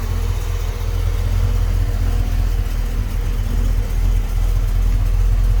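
A car engine idles steadily with the air conditioning and headlights switched on, a loud, constant low rumble with an even hum and no voices.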